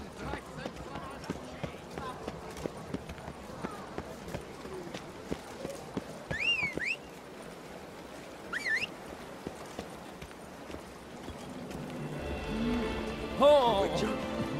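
Roach the horse galloping in The Witcher 3, hooves clip-clopping in a steady rhythm at moderate distance, mixed with game ambience, a couple of brief whinny-like cries and rising noise toward the end.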